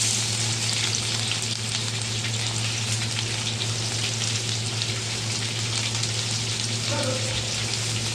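Garlic sizzles steadily in hot oil in a pan, a dense crackling hiss with faint stirring under a low background hum.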